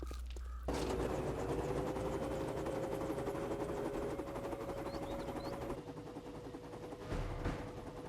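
A helicopter in the game 7 Days to Die sets down on a small helipad, its steady rotor and engine drone running throughout and easing slightly in the final seconds.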